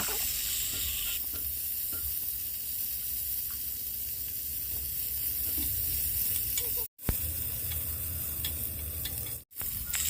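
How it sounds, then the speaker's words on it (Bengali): Cauliflower florets frying in oil with salt and turmeric, left over from frying fish, make a steady, close hiss and crackle with a couple of abrupt brief cut-outs. "মাছগুলো নামিয়ে নিয়ে ওই তেলে আমি ফুলকপিগুলোকে একটু লবণ আর হলুদ দিয়ে ভেজে নেব।"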